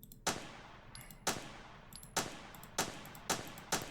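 Six gunshots from a Roblox first-person shooter game, sharp and evenly spaced about once a second, each with a short decaying tail.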